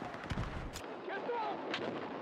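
Sniper rifle gunfire in a video game, likely PSR: a couple of booming shots with rumbling tails over game ambience, one near and loud, another softer, with brief background effects.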